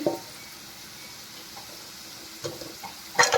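Broad beans (chikkudukaya) fry quietly in a pan, giving a soft, steady sizzle with a few brief clinks of stirring near the end, and no talk.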